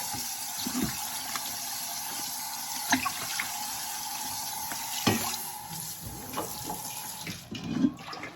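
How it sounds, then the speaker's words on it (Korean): Food being rinsed in a stainless steel colander under a running kitchen tap while making gamjatang, a steady gush of water with intermittent clinks and sloshes as it is handled, no talking. "스텐 소쿠리에 해가지고요. 여기서 한번 이렇게 깨끗이 닦아주세요."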